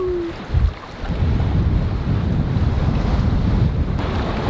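Steady wind and rolling ocean waves surround a boat anchored in lumpy seas off Australia's east coast near the top of the Great Barrier Reef, with a continuous loud rush and a brief thump near the start.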